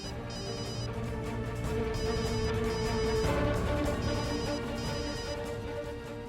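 A phone ringtone chimes in repeated bursts, playing loudly over a busy musical background for several seconds.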